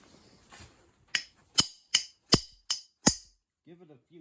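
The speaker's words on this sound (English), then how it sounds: "Give it a few good sharp blows." Six sharp metallic hammer blows strike a tapper tool in a spark plug hole during a Helicoil thread repair, evenly spaced and close, with brief quiet between; a voice murmurs briefly at the end.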